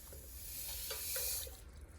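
Lye granules poured into a container of water on a table while making cold process soap: a faint, steady hissing pour with light trickling, fading out near the end.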